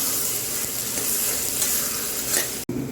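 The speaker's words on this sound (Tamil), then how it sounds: "அதுவும் எண்ணெயில் கொஞ்சம் பச்சை ஸ்மெல் போகிற மாதிரி வதங்கட்டும்." Ginger garlic paste sautés in hot oil for a Saidapet-style vada curry, giving a loud, continuous hiss and crackle with a stirring scrape and a sudden brief cut near the end.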